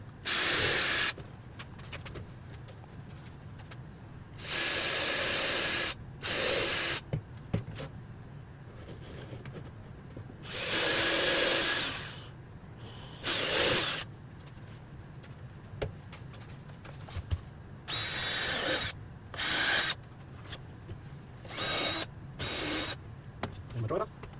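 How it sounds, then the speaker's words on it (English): A power drill with a countersink bit whirs in repeated short bursts, starting and stopping at irregular intervals, close by with quiet background noise between runs. "It's a little countersink drill bit."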